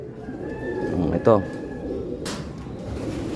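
Small pet pigeons coo close by, one short throaty coo rising out of a steady background murmur while a person speaks briefly.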